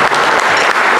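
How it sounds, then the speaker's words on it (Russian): Concert audience applauding at a rock show in a Moscow theatre, loud and dense clapping that fills the whole moment with no one talking. "за этот аванс, да, в виде аплодисментов"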